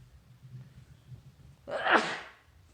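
A single sharp human sneeze bursts out loud and close after a quiet stretch, rising to a strong peak and trailing off within about a second.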